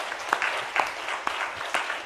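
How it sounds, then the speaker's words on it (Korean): During a Sunday church service, a congregation claps for its teachers in a regular, evenly spaced beat, about two claps per second, moderately faint and heard against a quiet hall. "우리가 박수 한번 해줘야 되겠죠"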